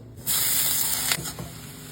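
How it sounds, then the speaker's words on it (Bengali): A sudden loud sizzle bursts out as food hits hot oil, hissing strongly for about a second, then settling into a quieter crackle. "আমি কড়াইয়ে দিয়ে দিলাম এই যে কেটে রাখা রসুন"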